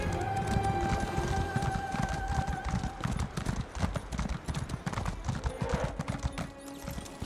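A horse's hooves clip-clop while riding in the video game Elder Scrolls Online (Elsweyr), a close, rhythmic gallop of steady hoofbeats that carries on throughout.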